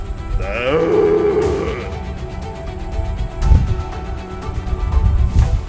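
A hunter imitates a red deer stag's roar with a call, giving deep, drawn-out grunting roars. A longer bellow opens the stretch and shorter bursts follow, loud and close, with no speech.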